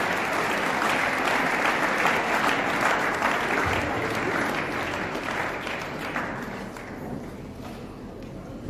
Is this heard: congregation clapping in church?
yes